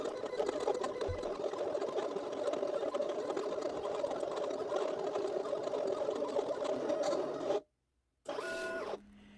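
A Cameo cutting machine cuts yellow vinyl with a steady mechanical whir and motor hum that runs continuously, then stops briefly before a short burst of carriage movement resumes at the end.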